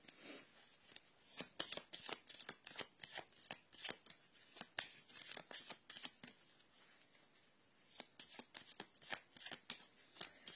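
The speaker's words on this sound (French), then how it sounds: "on va tirer une autre carte pour voir un peu si on peut avoir un complément d'information" Oracle cards being shuffled before a draw: a steady run of quick papery riffles and slaps repeating through the whole stretch, close and fairly quiet, with no voices.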